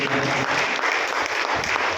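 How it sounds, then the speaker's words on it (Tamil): Audience at a Tamil literary and humour talk breaking into steady, dense applause that fills the hall without pause. "அவருக்கு ஒரு பலத்தை கைத்தட்ட கொடுங்க"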